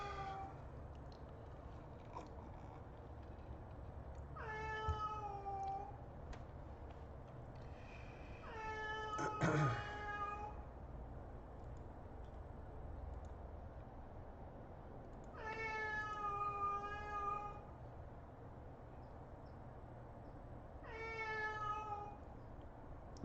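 Cats meow in several separate drawn-out calls spaced a few seconds apart, fairly close against a low, steady indoor background hum.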